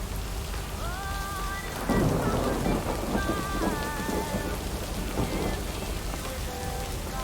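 Steady rain pours throughout in the video game Lake, with rolling thunder swelling loudly around two seconds and rumbling again mid-clip, joined by soft tonal chimes and no voices.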